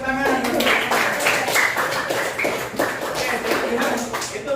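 Students in a primary school classroom clap their hands in a steady rhythmic pattern close by, mixed with faint voices throughout.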